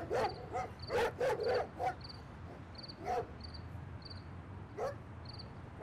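A dog barks in a few short bursts nearby, with a steady chirp of crickets running through a quiet night scene.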